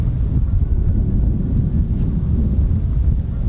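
Strong wind buffets the microphone on a golf course, a steady low roar across the whole stretch, loud and unbroken, with no talk.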